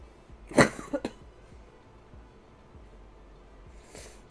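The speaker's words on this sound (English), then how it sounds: "Yay, coughing." Someone with a bad illness coughs several times in quick succession, close to the microphone, followed by a quieter cough a few seconds later.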